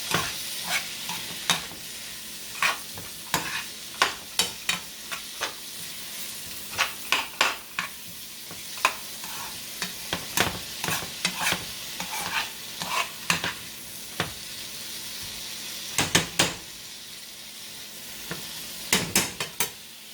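Vegan fried rice with pre-cooked collard greens is stirred in a hot, sizzling pan, a steady frying hiss broken by frequent sharp scrapes and clacks of the utensil against the pan, in irregular bursts without talk.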